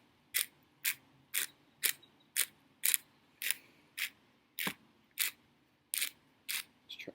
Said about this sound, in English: the black pepper freshly ground, I think it has much more flavor than the stuff you can get pre-mixed.